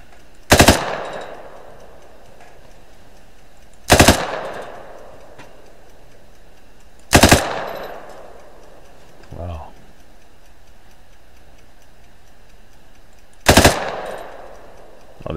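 Four loud, sharp gunshots from Arma 3 gameplay ring out at irregular intervals of a few seconds, each with a short echoing tail, with a faint lower thump in between.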